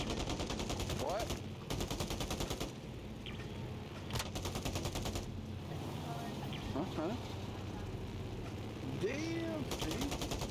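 Rapid automatic gunfire in the video game Warzone as a player shoots down a plane during a plane ride, sustained bursts under a constant engine drone, with brief pauses, while people talk over it.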